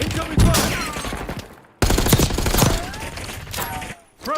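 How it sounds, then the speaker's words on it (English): Gunfire in Call of Duty Warzone: heavy automatic bursts and explosive blasts fill the mix, loud and close, broken by a brief silent gap and a fading tail near the end. "Incoming fire!"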